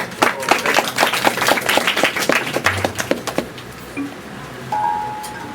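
Audience applause greets a Thai classical overture performance, a dense patter of many hands clapping fairly close, thinning out toward the end as a sustained instrument note begins.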